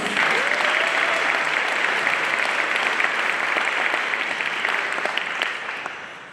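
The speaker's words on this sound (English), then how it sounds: "Let's give another round of applause." Clapping from the crowd at an MLK commemorative breakfast gathering holds a full, even roar throughout, then gradually thins as it winds down.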